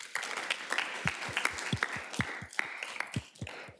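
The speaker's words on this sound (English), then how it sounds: "Can we have a round of applause?" Lecture-hall audience applause for a student presenter at a data-structures lecture: a short burst of moderate clapping from a modest crowd, individual claps distinct, with no speech over it.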